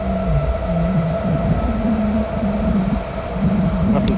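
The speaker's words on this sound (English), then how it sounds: "There's a train right here." Continuous rumbling and droning of a train rolling past nearby in Whitechapel, London, with a steady mechanical hum and rhythmic low rattling throughout.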